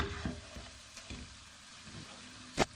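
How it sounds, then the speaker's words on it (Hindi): Rice halwa with milk cooks in a pan as it is stirred, faint soft scrapes and a low bubbling sizzle, with a sharper clink of the utensil near the end, no talking. "5 से 10 मिनट के लिए हलाते जाए।"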